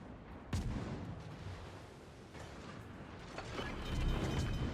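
Gunfire raining on a ship in a naval combat video game, a dense continuous barrage of shots and crashing impacts with a sharp hit early on and heavier, louder fire building toward the end.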